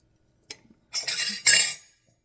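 A small spatula scrapes and clinks sourdough starter from a measuring cup into a jar: a brief tap, then two bursts of scraping contact, close and distinct against silence.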